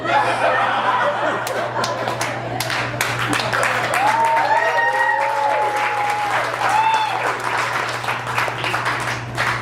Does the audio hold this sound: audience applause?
yes